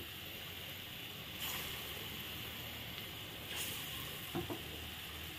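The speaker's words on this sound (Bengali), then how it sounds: "ডালের বড়াগুলো আমি আস্তে আস্তে করে দিয়ে দেব। তেলটা অনেক বেশি গরম হয়ে গেছে।" Lentil fritters frying in very hot oil give a steady broadband sizzle, with a few louder spitting bursts and a brief clatter near the end.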